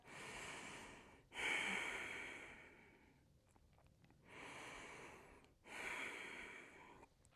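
Slow, deep breaths held in a yoga pose, two long audible inhales and exhales drawn through the nose with a slight snort-like rasp, close and quiet, no talk over them.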